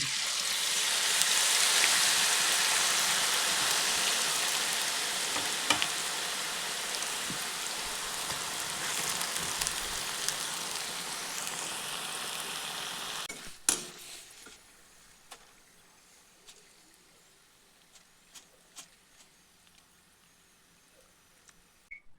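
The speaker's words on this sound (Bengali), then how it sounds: "এরকম করে সব আলুগুলি ভেজে নিচ্ছি" Potatoes deep-frying in hot oil give a dense, steady sizzle that stops abruptly partway through, followed by faint scattered clicks and taps of kitchen handling.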